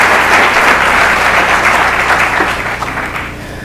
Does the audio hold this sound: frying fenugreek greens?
no